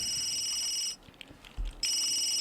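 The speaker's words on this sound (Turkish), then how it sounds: "Ananın telefon çalıyor yine Allah." A phone rings in The Sims 3 video game with a bright, repeating electronic trill, briefly cutting out midway before resuming loudly, no talking over it.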